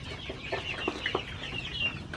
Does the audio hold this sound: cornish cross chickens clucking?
yes